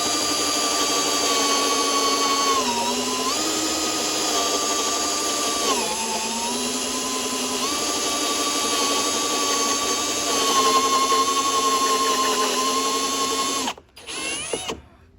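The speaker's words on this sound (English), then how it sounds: "I'm going to slow the drill down." A power drill whines steadily for most of the clip during a Husqvarna repair, its pitch dipping a few times as it slows under load, then cuts off near the end.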